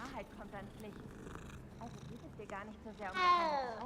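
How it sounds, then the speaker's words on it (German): A cat in the video game Hogwarts Legacy purrs in a low, steady rumble, joined by several short meows and ending in a louder, drawn-out meow, all close by with no talk over it. "Oh, das Schnurren."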